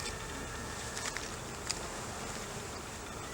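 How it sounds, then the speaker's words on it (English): Honey bees from a recently installed package colony buzz steadily around open hive frames, a dense continuous hum close by with faint brief ticks, no talk. "You can tell when the bees need some more smoke."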